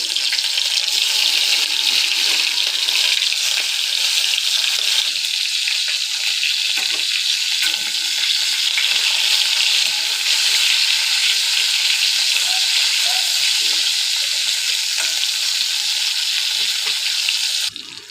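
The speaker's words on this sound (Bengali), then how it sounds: "মাথাগুলো ভাজা হয়ে গেছে" Hilsa fish heads rubbed with salt and turmeric fry in hot oil with a loud, continuous, close-up sizzle and crackle that holds steady throughout.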